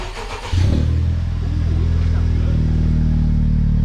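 A Honda Civic Type R FK8 with a damaged stock downpipe and blown-out catalytic converter starts up and settles into a loud, steady rumbling idle, with people talking over it.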